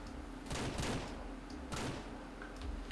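Two loud, close gunshots fire about a second apart in Ranch Simulator, each with a short echoing tail over low background noise.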